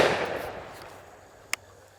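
A shotgun fires a number 8 target birdshot load, one sharp blast at the start that rings out and decays, followed by a faint short click.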